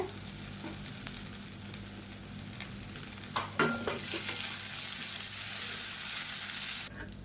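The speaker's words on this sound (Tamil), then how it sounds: "இப்போ வெங்காயம் நல்லா வதங்கிட்டு இருக்கு" Chopped onions and drumstick leaves sauté in a pan while being stirred for a spicy ragi dish, a steady close sizzle with scraping stir sounds and a brief louder clatter midway, no talking.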